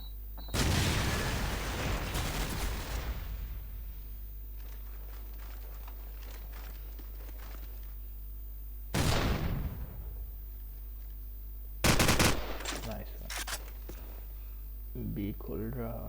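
Gunfire in a video game shooter match during a grand final, sounding as a few sharp, loud bursts spaced apart, the first a rapid string of shots, with quieter mechanical clicks in between.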